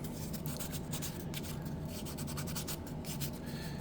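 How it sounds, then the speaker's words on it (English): Sandpaper rubs steadily over a carved wooden Jack Skellington pumpkin, a continuous close scratchy rasp of short back-and-forth strokes with no pauses. "take a piece of sandpaper, clean that up as well"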